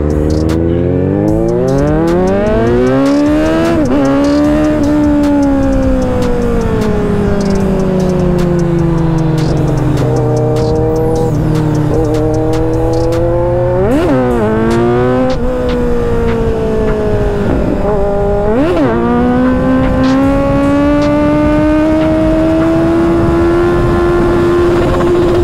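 A Kawasaki Ninja 1000 motorcycle with a quickshifter pulls hard, its engine rising in pitch through a series of quick, clipped upshifts with brief cuts between gears, loud and steady under constant wind noise.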